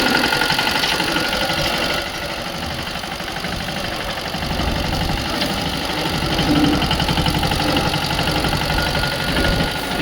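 A tractor engine runs steadily near the listener, a continuous low idling rumble with a slight knocking rhythm and vibration throughout, with no voices.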